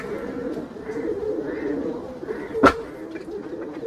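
Kaldum pigeons coo in low, rolling repeated phrases close by, with a sharp click or tap cutting through briefly midway.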